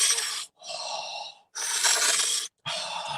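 Deep, loud breaths in a breathwork session, drawn in and pushed out in long, noisy waves of about a second each, separated by brief silent pauses, with no talking.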